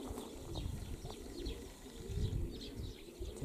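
Pigeons coo softly outdoors in low, repeated murmurs, faint against a light background hum.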